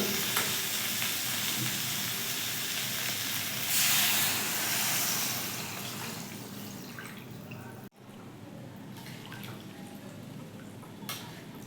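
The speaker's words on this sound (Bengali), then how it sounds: "মাংসটা কষানো হয়ে গেছে এবার আমি দিয়ে দেবো জল" Water poured into a pan of braised chicken for chicken pulao sets off a loud, broad hiss of sizzling and steam. The hiss fades gradually and drops to a quieter bubbling simmer after a brief cut.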